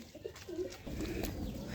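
Pigeons from Andhra cooing, soft low coos repeating close by over a faint background hum.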